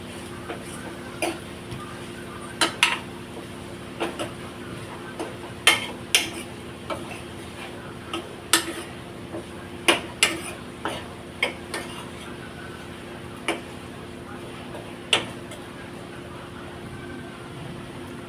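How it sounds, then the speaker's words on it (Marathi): Spoon scraping and knocking against a pan while cauliflower, peas and paneer dry bhaji is stirred, giving sparse, irregular sharp clinks over a low steady background hum. "मी सगळं परत मिक्स करते"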